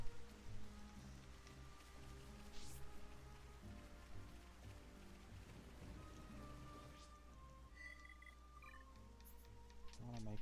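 Steady rainfall in the game Xenoblade Chronicles during a midnight storm, a soft continuous patter with a low hum beneath and a few brief brighter sounds near the end.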